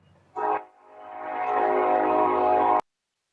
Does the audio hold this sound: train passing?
yes